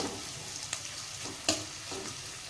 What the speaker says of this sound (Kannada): ಈಗ ಇದು ಸ್ವಲ್ಪ ಫ್ರೈ ಆಗಕತ್ತೈತಿ